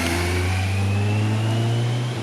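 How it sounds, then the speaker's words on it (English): A motorcycle engine drones loud and steady on an outdoor battlefield tour at Gettysburg, holding a constant humming pitch throughout with no voices over it. "Watch the motorcycle."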